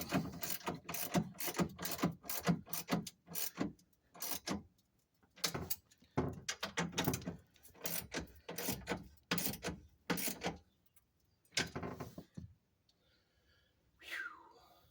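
Ratchet wrench bolting up a car's steering column, bursts of rapid clicking strokes in quick irregular runs with short pauses, close and crisp, ending with a faint scrape.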